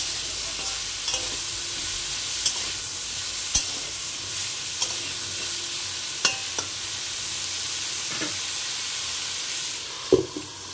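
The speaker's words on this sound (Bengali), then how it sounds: "গ্যাসের আঁচটা কমিয়ে একটা ঢাকনা দিয়ে ঢেকে 5 থেকে 7 মিনিট একটু ভালো করে কষিয়ে নেব।" Ridge gourd curry cooks in a covered pan on low heat, giving a steady soft sizzle and hiss with a few faint clicks and taps scattered throughout, no voices.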